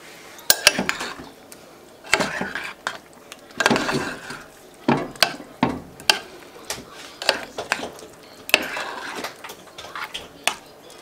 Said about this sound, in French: Donc voilà, je verse la sauce. Je vais mélanger un petit peu.